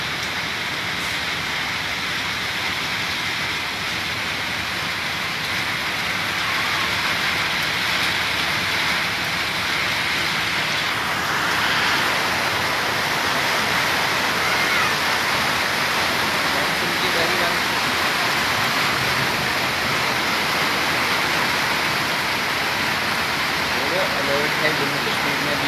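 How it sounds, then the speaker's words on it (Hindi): Monsoon rain falling in Delhi, a continuous dense hiss of rainfall lasting the whole stretch, with distant traffic-like rumble underneath. "दिल्ली के अंदर आप इस वक्त देख रहे हैं कि मॉनसून की बारिश शुरू हो गई है"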